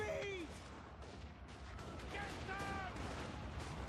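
Total War: Warhammer battle as a Bretonnian paladin is shot down, a dense wash of rumbling gunfire and artillery with overlapping blasts, while someone talks over it.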